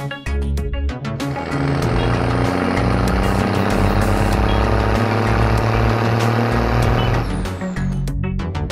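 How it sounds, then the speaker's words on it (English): An aerial platform truck's engine drones loud and unbroken for about seven seconds, with rapid clicking pulses at the start and end. "Aerial platform truck."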